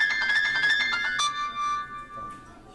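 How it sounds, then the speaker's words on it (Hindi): A phone ringtone plays loudly for an incoming call that goes unanswered, a bright repeating melodic pattern that cuts off after about a second and leaves a fading echo. "क्या हुआ, फोन रिसीव क्यों नहीं कर रही हो?"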